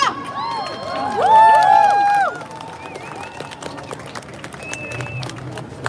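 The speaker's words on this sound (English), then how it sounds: "Make a applause for Hala!" A crowd at a Sudan protest in Amsterdam bursts into cheering with loud whistles and shouts, peaking early, then dropping to scattered voices and clapping.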